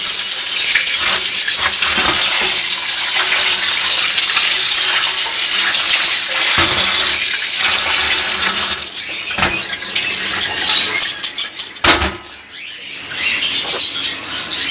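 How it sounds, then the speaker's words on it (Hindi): Running tap water pours steadily over soaked bird feed being washed, a loud continuous splash that breaks into uneven gurgles and patters near the end as the flow shifts. "ये जो 24 आवर्स से फीड भीगी हुई थी वो आपके सामने मज़ीद वॉश की जा रही है।"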